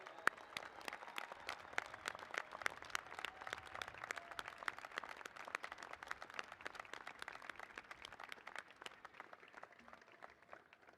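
Graduates and guests at a SUNY Maritime commencement ceremony give a round of applause to their families, a sustained wash of many hands clapping from a large crowd, moderately distant and fading slightly toward the end.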